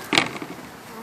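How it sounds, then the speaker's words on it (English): Honeybees from a newly installed package buzz at the hive entrance, a dense insect drone that swells briefly near the start and then settles into a steady, close hum. "There's a bee on me"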